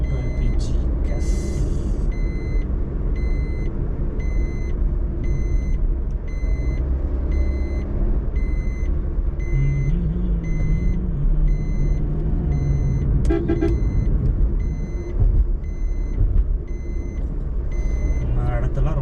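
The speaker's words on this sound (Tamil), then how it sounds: "கார் நம்ம கார் போகுதுப்பா, டிசைர் ஒன்று போகுது, ஸ்கார்பியோ போகுது" Road traffic with cars such as a Maruti Dzire and a Mahindra Scorpio and an LPG auto-rickshaw going by, heard as a continuous close rumble of engines and tyres with occasional beeping and horn tones throughout.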